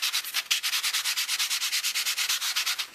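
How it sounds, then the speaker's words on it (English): Small piece of sandpaper rubbed by hand over rough wood, a steady run of quick, close back-and-forth scratchy strokes, about eight per second, with no talking. "take my tiny sandpaper and just go over it a little bit because it is kind of rough"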